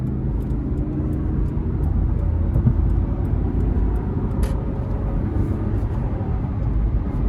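A 2014 Lexus GX 460 with a 4.6 V8 and six-speed automatic pulls under throttle, heard from inside the cabin as a steady, fairly loud low engine drone blended with road noise.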